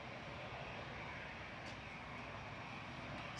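A jet airliner touches down at Manchester Airport, its engines a steady, broad roar heard from some distance, unbroken for the whole stretch with no talk over it.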